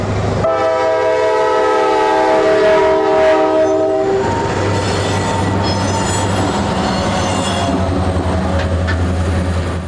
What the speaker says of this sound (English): Thrashing through the notches, 5642's addition to the lineup meant track speed was quickly and loudly achieved.